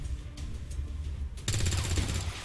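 A burst of gunfire aimed at a sectoid in the video game XCOM 2 starts abruptly and sounds loud and rapid, a rattling volley that continues steadily over low rumbling game ambience.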